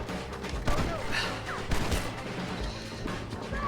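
Gunfire crackles in the Red Dead Redemption story finale, with several scattered shots and thuds over a busy layer of game noise and effects.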